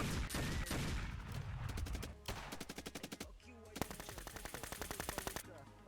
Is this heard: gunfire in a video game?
yes